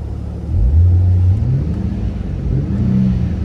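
A tuned Infiniti Q50's engine revs up sharply from idle, rising in pitch, then holds and swells again in a deep, throaty rumble close by.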